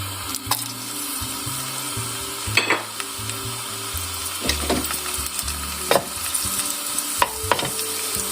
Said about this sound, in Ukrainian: моя сковорідка вже розігрілася, я додаю оливку олії і мій роздавлений чесничок та перчик